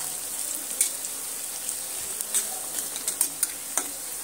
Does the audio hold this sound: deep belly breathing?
no